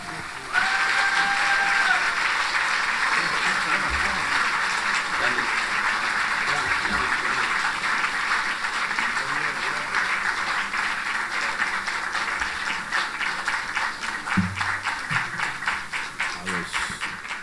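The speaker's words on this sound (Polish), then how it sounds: "Jeszcze raz brawa." Sustained audience applause at a live city event in Gdynia, a dense steady wash of clapping lasting the whole stretch, with a brief whistle-like tone near the start and faint voices underneath.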